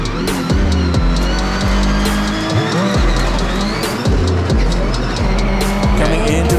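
Race cars, Scott Speed among them, launch hard off the line in a head-to-head drag-style start, engines screaming through rapid gear changes with tire squeal, the loud revving and shifting sustained from start to finish.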